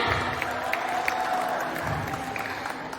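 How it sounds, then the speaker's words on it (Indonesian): An audience at a scholarship information session claps for a book chapter award winner, a moderate, continuous round of applause with a few sharper individual claps throughout. "Tepuk tangan semuanya."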